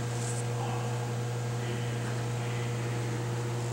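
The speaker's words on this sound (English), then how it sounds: "This is the Autosamdri 814B sample drying at critical point" A Tousimis Autosamdri 814B critical point dryer runs with carbon dioxide hooked up, giving a steady, even mechanical hum with faint hiss that holds unchanged throughout, with no voices.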